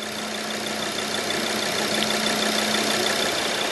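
A motor with a worn bearing gives a continuous drone with a rough, grinding hum and a steady low tone, loud and close, with no talking.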